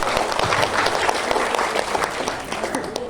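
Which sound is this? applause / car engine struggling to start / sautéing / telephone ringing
applause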